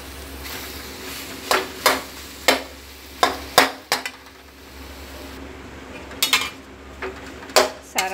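Spiced potato filling with mango powder being stirred in a pan, sharp clanks and scrapes of a metal spoon against the pan in irregular bursts over a low sizzle.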